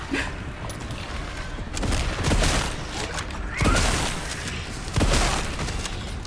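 A grenade blast and bursts of gunfire in a zombie-style video game, several loud booms and rattling volleys landing in quick succession, dense and close, with a voice breaking in briefly.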